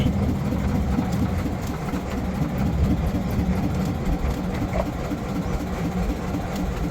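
A trawler's heavy engine drones steadily and close while the boat moves into a narrow canal in the Sundarbans, a constant low rumble that runs unbroken throughout.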